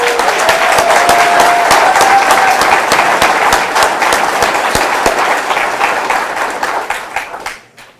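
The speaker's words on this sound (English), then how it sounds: "Can we get another round of applause, please?" Applause from an audience at a high school equivalency graduation recognition ceremony, dense and steady clapping with sharp individual claps, loud and sustained before thinning out at the end.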